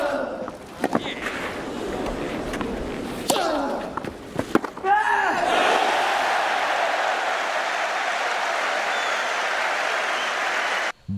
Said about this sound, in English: He even made a backhand cross-court winner that made audience cheer with delight.